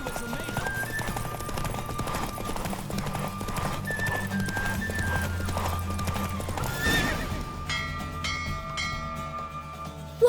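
Rapid hoofbeats pound steadily as a horse gallops in a race in The Witcher 3: Wild Hunt, with a whinny and game sounds layered over it, then the gallop fades into ringing bell-like tones.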